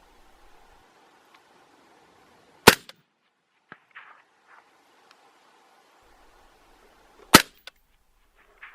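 Two sharp, loud rifle shots from a suppressed rifle with a silencer crack out several seconds apart outdoors, each a brief clean report with a short tail, separated by near silence and faint small rustles.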